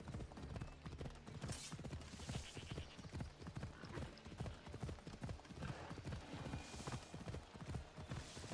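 Hooves of a ridden horse in the Assassin's Creed Odyssey video game pound in a fast, steady galloping rhythm, close and continuous across the whole stretch, fairly quiet overall with no talking.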